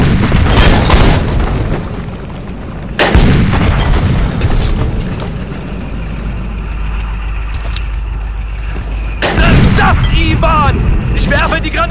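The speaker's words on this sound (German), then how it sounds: "Granate in Deckung!" Grenade blasts in a first-person shooter deathmatch on New Camerton, with loud booming bursts near the start, around three seconds and again near nine seconds over constant game noise and a talking voice.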